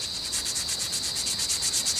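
Rhythmic scratchy rubbing of sandpaper on a motorcycle drum brake pad, quick even back-and-forth strokes repeating steadily and close up.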